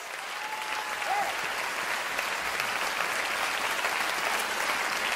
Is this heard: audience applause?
yes